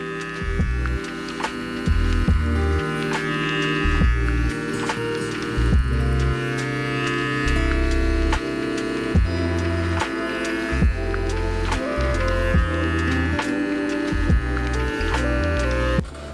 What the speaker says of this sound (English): I'm gonna use a little bit of clipper over comb to remove a little bit of that length that's left